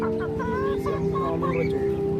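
An egg-laying hen clucks repeatedly in a rhythmic, close series of short calls, with other fowl faintly present in the background.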